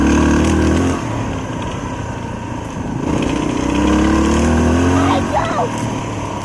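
A motorcycle taking off on a trail in Fairbanks, Alaska, its engine droning and revving up while moving away, with wind rumble and a person talking over it.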